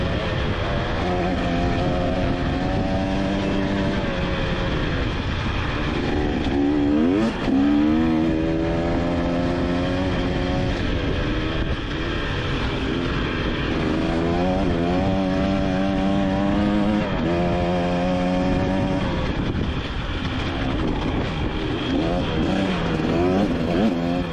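A KTM 250 EXC/XCW TBI two-stroke dirt bike engine runs loud and close the whole time, its pitch repeatedly climbing and falling as the throttle is worked, with no talking.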